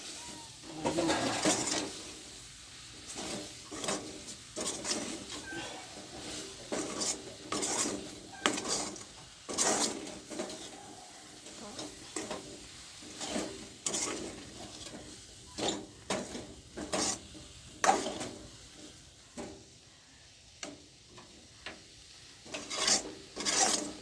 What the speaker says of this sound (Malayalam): ഇളക്കാം.